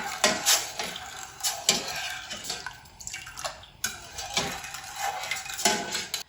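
A spoon stirs sugar syrup with cardamom pods in a pot, giving repeated metallic clinks and scrapes against the sides over a faint liquid wash, close and without talk.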